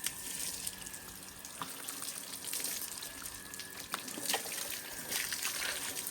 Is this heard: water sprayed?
yes